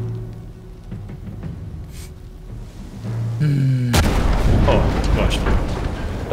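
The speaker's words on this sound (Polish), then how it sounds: "Niech to wybuchnie." A deep, booming explosion in the video game Sniper Elite 5 erupts midway and rumbles on loudly, following quieter background noise and a brief rising tone.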